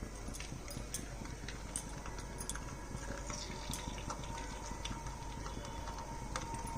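Semolina luchi frying one at a time in hot oil, a quiet, continuous bubbling crackle with small sharp pops scattered throughout, close but low in level.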